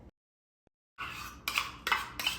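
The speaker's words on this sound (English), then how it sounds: "we're going to use this spoon to just stir it all together" A spoon scraping and clinking against a bowl while stirring yeast-free, high-protein naan dough into a shaggy mass, a few close scrapes and knocks after a brief silence.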